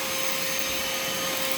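Vacmaster 2.5 gallon, 2 horsepower shop vacuum running steadily at close range, a constant whining motor roar with rushing airflow through the nozzle, no voices.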